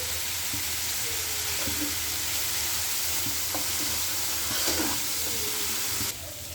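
Spices fry in a pan with turmeric and cumin paste, a continuous close sizzle broken by scraping stirs and clinks of a spoon against the pan.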